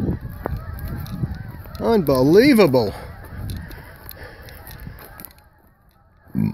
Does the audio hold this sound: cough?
no